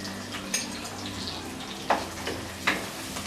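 Cumin and coriander powder frying with golden brown onions in a pan for a chili fish egg curry, a low sizzle with a few louder scrapes and clinks of stirring, close up, no one talking.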